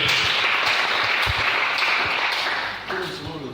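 A church congregation applauding the Lord, a broad wash of clapping that fills the space and slowly fades toward the end, with some voices mixed in.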